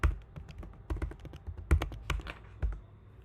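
Close, quiet typing on a computer keyboard: irregular bursts of soft key taps with a few heavier presses, in a quiet room.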